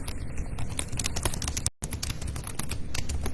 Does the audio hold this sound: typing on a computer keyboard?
yes